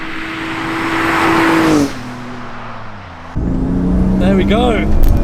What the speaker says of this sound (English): We're sucking the air in with the turbo spooling up, and hear the dump noise